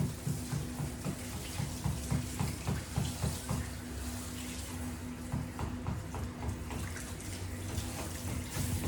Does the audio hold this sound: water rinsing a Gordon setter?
yes